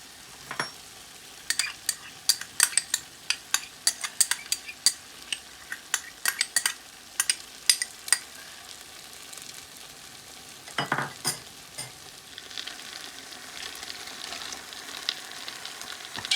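Chicken noodles with soy sauce, garlic sauce and green onion being stir-fried, a spatula scraping and clanking against the pan in quick bursts over a soft sizzle, no voices.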